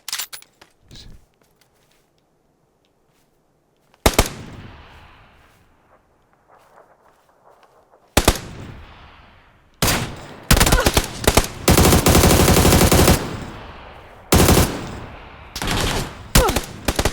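Gunfire in the video game PUBG: sharp single shots followed by long sustained bursts of automatic fire, loud and close, with quiet gaps and echoing tails between volleys.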